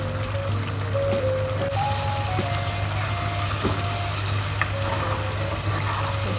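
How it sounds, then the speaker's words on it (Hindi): Masala spices roasting in a pan while being stirred, a steady close sizzle and fry with occasional scraping clicks of the spoon, alongside a low constant hum. "तो देखिए इसी तरह चलाते हुए आपको अपने मसाले को भूनना है।"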